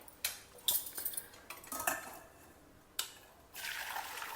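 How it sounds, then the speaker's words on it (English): Water drains off cooked kabuli chana in a kitchen, with several sharp clinks of a metal pot and utensils followed by a short pouring splash at the end. "Drain out the water."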